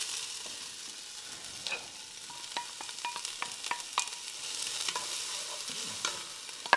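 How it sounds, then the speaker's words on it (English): Chopped onion sautéing in olive oil in a hot pan, a steady close hiss broken by scattered pops and crackles that grow busier toward the end, with no voices. "And that's going to start sauteing."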